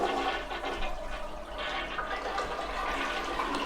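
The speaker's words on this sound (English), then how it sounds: "It's currently flushing as it should." A clean household toilet flushes with a steady, full rush of water that holds level and close throughout, with no voices over it.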